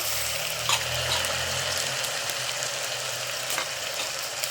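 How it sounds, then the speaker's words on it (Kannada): Tomato, peanuts, beans and carrot fry in a pot for bisi bele bath, giving a steady, even sizzle with a low rumble at first and faint scraping clicks of stirring. "ಸ್ವಲ್ಪ ಹುರ್ಕೊಳ್ಳೋಣ ಹಂಗೆ"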